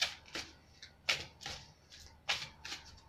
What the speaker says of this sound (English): So I will shuffle the cards